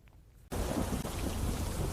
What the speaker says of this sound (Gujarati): ગાજવીજ તેજ પવન સાથે વરસાદ પડ્યો